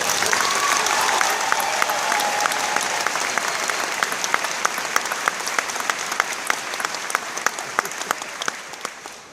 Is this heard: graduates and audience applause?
yes